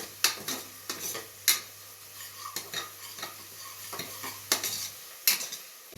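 Chicken and masala fry in a pan for biriyani: a soft continuous sizzle under repeated sharp scrapes and clinks of a spoon stirring against the pan, close and uneven.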